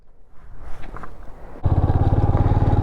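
A motorcycle on a mountain road near Chandratal Lake in Spiti, starting with quiet rustling and clatter before the engine suddenly roars up close, loud and steady with a pulsing rhythm.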